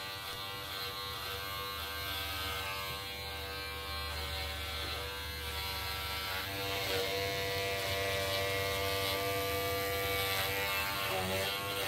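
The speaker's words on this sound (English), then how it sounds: "all that's left to do is just shave it up. Just going row after row, passing each bit, taking off all the high spots" Electric carpet trimmer shaving the pile of a tufted rug row by row, a continuous close, loud, high-pitched buzzing whine that holds steady throughout with slight shifts in tone as it passes over the surface.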